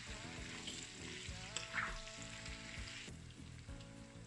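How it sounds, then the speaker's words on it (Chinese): Sausage, pumpkin and potato are stir-fried in hot oil in a wok, giving a steady close sizzle with occasional scraping and stirring clatter. "热锅放油，加入香肠炒香， 再加入南瓜和土豆，"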